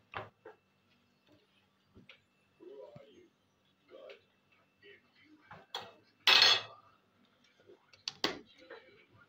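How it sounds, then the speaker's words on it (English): A spoon stirring Greek yogurt into oatmeal in a bowl, with scattered soft scrapes and clinks, a few louder knocks and brief bursts of muffled sound between quiet gaps. "I'm going to stir it very well."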